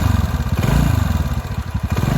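A TVS Ntorq scooter with an engine sound fault revs up close by, its low, uneven engine note pulsing with a rough clatter, alone and without talk.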